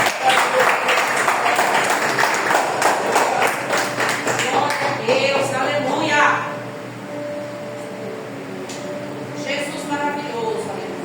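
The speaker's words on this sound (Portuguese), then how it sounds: "Aplaudam a palavra do Senhor." A church congregation applauds after a sermon reading, dense broadband clapping filling the first six seconds, then fading to scattered claps under a lingering murmur of voices.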